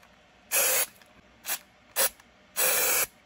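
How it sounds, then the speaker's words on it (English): Four short bursts of 3M adhesive spray hissing from a can, close up, two longer and two brief, with quiet gaps between. "3M adhesive spray."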